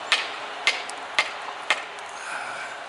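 An antler soft hammer strikes Texas chert during flintknapping, giving four or five sharp, close clicks at a steady, unhurried pace, then a quiet stretch.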